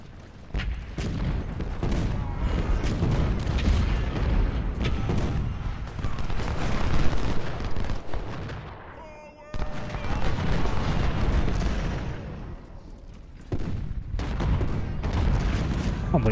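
Grapeshot cannon fire and musketry in Ultimate General during the siege of Fort Washington, a long, dense stretch of booming cannon and crackling volleys. A brief lull falls around the middle before the firing resumes loudly.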